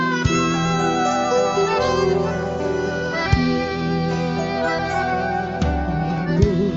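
A group plays chamamé, a regional folk style, live at the Festival Nacional del Chamamé, with dense sustained melodic accompaniment that flows continuously and is steady and loud throughout.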